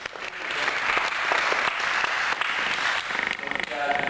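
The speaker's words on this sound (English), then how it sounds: "Give these guys a big round of applause." A big round of audience applause at an event, full and continuous clapping from a crowd that holds steady, with a few distinct sharp claps standing out and some voices mixed in.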